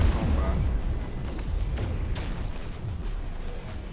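Proton cannon fire during a space combat fight against pirates in No Man's Sky, with dense, continuous booming blasts and rumbling bursts that stay loud throughout.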